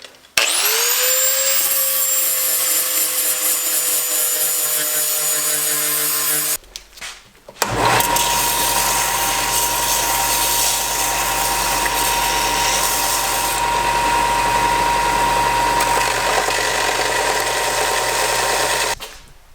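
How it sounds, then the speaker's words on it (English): A handheld grinder with a flap sanding disc whines steadily and loudly, briefly stops, then roars back up, running continuously with a harsh, gritty buzz. "it's just a sanding disc for your grinder"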